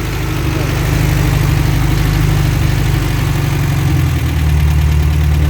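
A VW Beetle engine idles steadily with its electronic choke on after a carburettor butterfly shaft repair, a loud, even low rumble running throughout.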